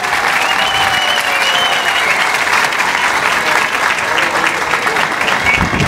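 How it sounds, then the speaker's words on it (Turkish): A large crowd at a Sivas regional culture event at Yenikapı claps steadily for Beyoğlu mayor İlhan Güney, producing a loud, even roar of applause throughout with faint voices mixed in. "İlhan Başkan'ın alkışı biraz daha az oldu."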